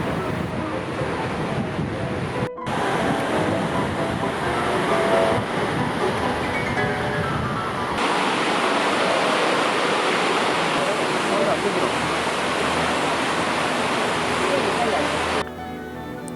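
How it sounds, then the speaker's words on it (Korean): Loud, steady roar of the rushing Baekdam Valley mountain stream in Korea's Seoraksan area, broadband and continuous throughout, with no voices. "길을 따라 이어지는 백담 계곡의 우렁차고 시원한 물소리가"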